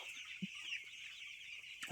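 Broiler chickens clucking inside a farm shed at night, with a few close, short clucks standing out over a steady hum of the flock and a louder burst of clucking at the end.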